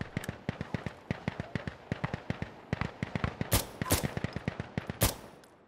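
Rapid automatic gunfire from a firefight in Insurgency: Sandstorm with the ISMC mod, a steady stream of sharp close shots with several louder, heavier bangs breaking through near the end.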